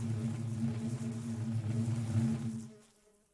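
Steady droning buzz of bees in a Minecraft-style modded game world, continuous and fairly close for about two and a half seconds before trailing off into quiet.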